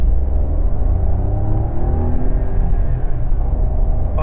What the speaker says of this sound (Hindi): तो अभी यार एक्सेलरेशन करके देखते हैं, एक बार 0 to 100 तो हो नहीं पाएगा, 0 to 60 करते हैं।